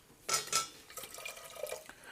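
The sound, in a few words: water poured into a pressure cooker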